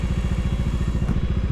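Motorcycle engine idling steadily at a high-altitude mountain pass, a close, loud and even low-pitched chugging with regular pulses and a slight rattle throughout.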